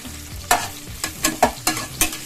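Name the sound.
capsicum frying in oil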